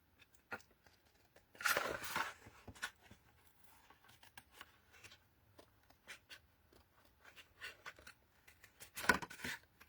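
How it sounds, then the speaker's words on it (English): Scissors snipping around a butterfly card shape, quiet irregular cuts and paper rustles with a couple of louder crisp bursts, close by and without talk. "So I'm going to come in now with my scissors and just cut around my butterfly."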